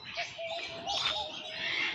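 Birds call at the TMII bird park in Jakarta, with soft cooing and chirps layered over a steady busy background, moderately near and continuous.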